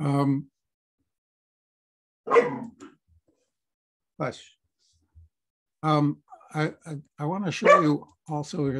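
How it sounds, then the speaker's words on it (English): A dog barks indoors a few times, short sharp bursts spaced between stretches of a person talking nearby. "that's my dog, sorry about that."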